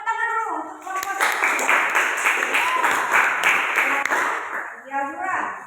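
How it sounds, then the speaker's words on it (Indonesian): Classroom students clapping for a student group, a dense burst of applause lasting several seconds, with a teacher's voice speaking before and after it. "Tepuk tangan dulu untuk kelompok 1."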